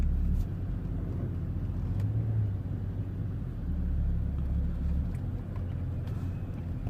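Steady low diesel rumble from a BMW E61 525d estate with a poor cold start and engine warning light, running close by while the car creeps forward, with no talk.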